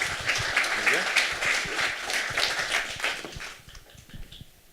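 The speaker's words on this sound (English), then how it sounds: "Please give her a warm round of applause." An audience at a conference event applauds a speaker taking the stage, with a burst of dense clapping and some voices that gradually thin and fade toward the end.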